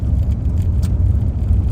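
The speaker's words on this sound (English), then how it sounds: "Here comes a car, we think. It's a van." A van passes on the fog-covered Top of the World Highway in Alaska, heard as a steady low road rumble that stays loud and even throughout, close by, with no voices.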